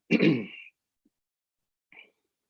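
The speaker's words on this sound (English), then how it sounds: "I'm about to sneeze." A single sharp sneeze bursts out, followed by a brief pause and a short faint sniff or exhale.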